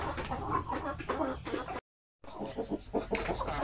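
Shamo Asil chickens cluck repeatedly at close range, busy, overlapping calls in an irregular rhythm, broken by a brief silent gap before the clucking resumes.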